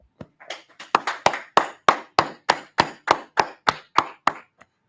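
A small group claps in a steady rhythmic beat, about a dozen sharp, evenly spaced hand claps close by, alone with no talk over them.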